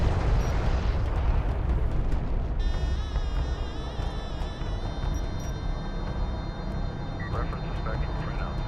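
A craft is destroyed in a loud rumbling explosion in the video game Homeworld: Deserts of Kharak, a dense roar of noise with a sustained ringing electronic tone joining partway through.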